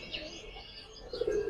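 Giribaz pigeons cooing at close range, soft throaty coos rising to a louder burst near the end, with faint background noise.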